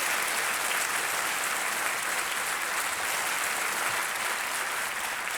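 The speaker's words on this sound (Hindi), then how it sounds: "तालियों के साथ इनका अभिनंदन" A studio audience on a TV quiz show applauds a contestant with steady, dense clapping that holds at an even level throughout.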